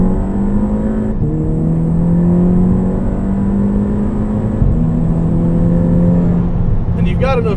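A big-turbo Volkswagen MK6 GTI with a dual-clutch gearbox and limited-slip differential pulls hard from inside the cabin, its engine droning loudly and rising in pitch, with quick dips at the gear changes.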